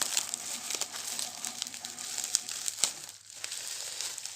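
Cardboard and plastic packaging of a Happy Ants ant-farm kit being opened up close, a steady run of crinkling and rustling with small sharp crackles and a brief quiet pause partway through.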